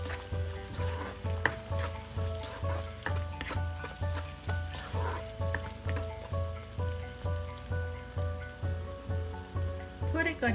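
Spices for a shrimp curry sizzle in a hot pan, with a spoon stirring in a steady rhythmic scrape roughly every half second over continuous frying crackle, close and moderately quiet, with no talking.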